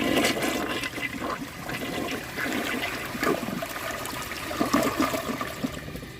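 A 1998 Kohler Wellworth Ingenium toilet flushes during a dirt test, a steady close rush and gurgle of water that holds throughout with slight swells, no voices.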